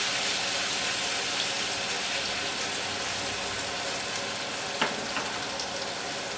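Purple potato, cabbage and carrot latkes fry in a pan with a loud, steady, close sizzle that runs without a break, with one brief clack partway through.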